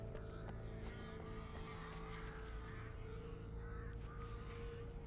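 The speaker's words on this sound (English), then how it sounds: "Those birds that I'm hearing?" Birds cawing in the horror video game Alan Wake, several harsh calls repeating over a low steady in-game ambience, fairly faint and set back in the mix.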